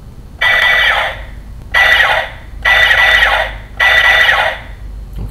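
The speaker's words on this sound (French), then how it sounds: "ici, ça fait un bruit de vaisseau" A Kyoryuger DX Plezu-oh toy spaceship plays its electronic sound effect in four loud, evenly spaced bursts of about a second each, separated by short pauses, up close with no talk.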